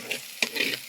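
Small onions frying in a pan for a fish curry, a brief soft sizzle with a light scrape of stirring, close and alone.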